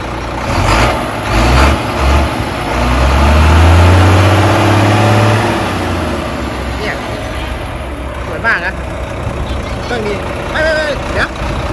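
A 390 hp UD tractor truck from 2020 idles and revs, its low engine rumble rising and swelling through the middle before settling, with people talking over it nearby.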